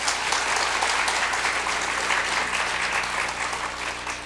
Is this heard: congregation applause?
yes